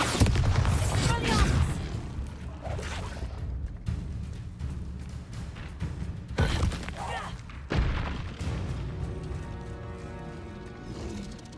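Bombarda spell explosions in the Hogwarts Legacy game land as several loud, booming blasts with crackling debris, spaced seconds apart over a busy layer of game noise.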